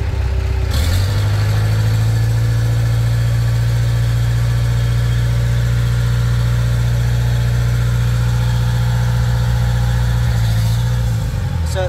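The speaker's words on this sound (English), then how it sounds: "engine works. Let's lift these forks up." A Lancer Boss 501 forklift engine runs steadily and loudly close by with a deep, constant drone while the forks are raised, with a slight change in tone near the end.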